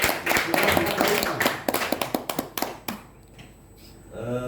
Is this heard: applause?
yes